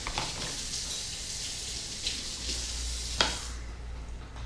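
A big pot of low-country boil with onions and potatoes bubbles at a steady rolling boil, a soft continuous seething and sizzling with a faint clink partway through.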